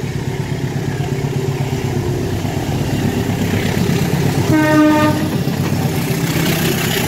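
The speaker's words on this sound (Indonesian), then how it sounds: "kita lihat yuk kereta api Logawa tujuan Banyuwangi" The Logawa passenger train bound for Banyuwangi, Indonesia, rumbles steadily past nearby, loud and continuous, with a long horn blast sounding partway through.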